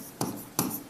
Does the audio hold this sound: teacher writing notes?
yes